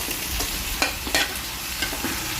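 Chicken feet adobo is stirred in a pan: a continuous close sizzle with a few sharp clicks and scrapes from the utensil.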